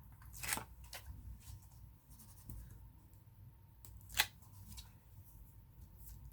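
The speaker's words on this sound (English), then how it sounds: "So we're taking off all of the tape, which to me, I have to rub the edges of the tapes" The backing is peeled off craft tape on a valentine greeting card, giving soft close crinkles, scratches and a couple of sharper snaps with no talking.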